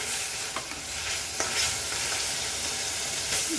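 Cumin and coriander fry in hot oil in a pan with a steady close sizzle, broken by a few sharp scraping stirs from a spoon, and no voices.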